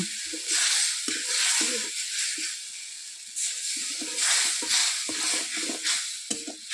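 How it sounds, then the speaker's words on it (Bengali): Onions sizzle and hiss as they fry in a pan for a pigeon meat gravy, with stirring scrapes and steady loud frying noise throughout. "এই যে পেঁয়াজটা দিয়ে ভাজা হচ্ছে, গ্রেভিটা বানানো হচ্ছে।"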